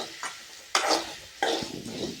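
Dried red chilies and chana dal being dry-roasted in a pan for homemade sambar powder, giving soft scraping stirs and light rattling in three distinct bursts, close and fairly quiet, with no talking.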